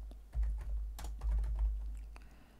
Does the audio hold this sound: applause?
no